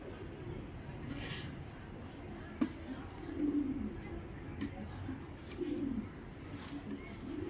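Iranian grizzle racer pigeons cooing softly in a loft, low repeated coos over faint background noise with an occasional sharp tap.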